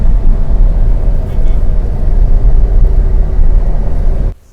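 A Nissan Magnite XV Premium turbo accelerates through the gears while being driven, its loud, steady low engine and road rumble heard from inside the cabin under a voice, cutting off abruptly at the end.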